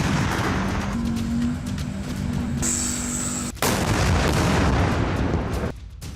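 Heavy artillery shelling in Belgorod: loud, continuous barrage of booming blasts and gunfire, with a sharp louder explosion partway through followed by rumbling.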